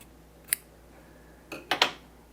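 Scissors snip off excess fabric from a quilt block: one quick cut, then a cluster of three sharp snips close together, near and crisp in a quiet room.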